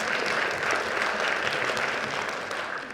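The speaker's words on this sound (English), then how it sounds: "Please clap for that." A high school spring concert crowd applauds warmly, a dense, sustained wash of many hands clapping at once that eases slightly toward the end.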